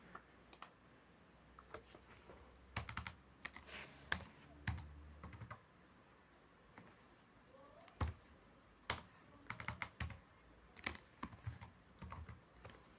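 Irregular bursts of clicking keystrokes on a computer keyboard while entering a QRIS takeaway order into a cashier system, fairly close and quiet, with short pauses between flurries of typing.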